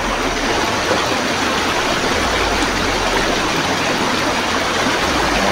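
A strong river current rushes after rain, a steady loud roar of churning water, close and unbroken throughout with no voices.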